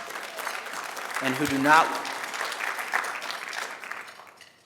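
Applause breaks out during a formal opening speech at a dinner event, dense clapping from a room of listeners while a voice briefly continues speaking over it, fading toward the end.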